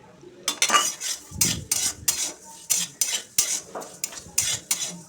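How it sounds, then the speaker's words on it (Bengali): A spatula scrapes and stirs mung dal dry-frying in a hot kadai, with about a dozen close, sharp strokes coming in a steady, uneven rhythm and a faint sizzle underneath. "মুগের ডালটা দিয়ে একটু ভেজে নেব নেড়ে চেড়ে, খুব বেশি ভাজবো না।"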